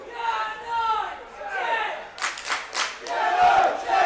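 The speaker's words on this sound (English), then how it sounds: "You can hear the 200 strong crowd here at the Butts Park Arena fully behind Coventry United." A small crowd of about 200 at a Coventry United football match at Butts Park Arena, shouting and cheering in bursts in the distance while a commentator talks over it.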